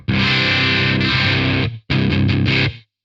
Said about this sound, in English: We want some distortion.